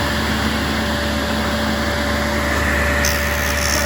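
A power saw runs continuously, making a test cut through wood for a garden bench: a loud, steady whining drone with a constant pitch and no pauses.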